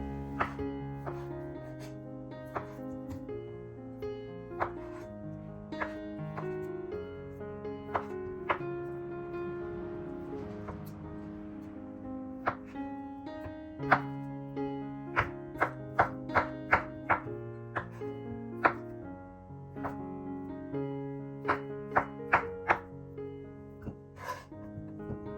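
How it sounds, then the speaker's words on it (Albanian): Cooled boiled potatoes are cut on a board in a potato salad prep, heard as a series of sharp knife thunks, irregular at first and then in quick bursts, over soft background music. "Patatet e ftohura i grim siç shihet në video dhe i vendosim në një enë."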